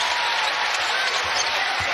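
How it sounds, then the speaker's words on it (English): Crowd applause and cheering fill a college basketball arena at an ACC men's game between Virginia Tech and Clemson, a steady broad roar lasting throughout with no pauses. "That gets the applause"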